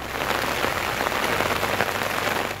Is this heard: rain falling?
yes